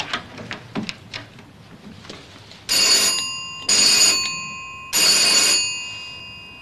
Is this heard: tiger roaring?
no